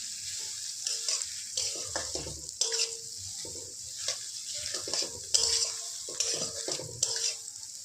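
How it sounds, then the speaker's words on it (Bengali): Pre-shaped soybean chunks fry in a pan with a soft sizzle, broken by repeated scraping and clattering strokes of a spatula stirring them, close and moderately loud. "আমি সয়াবিনগুলো আগে থেকে এইভাবে সেপ দিয়ে রেখেছিলাম, তোমরা চাইলে কিমা করেও নিতে পারো। এবার এটা একটু ভাজতে থাকবো।"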